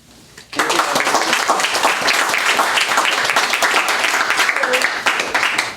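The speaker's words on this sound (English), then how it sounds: "a huge thank you and applause for that" Audience applause at a panel discussion on gay and Latino topics, breaking out suddenly after a quiet moment and holding as dense, steady clapping from a full room for several seconds, with faint voices mixed in.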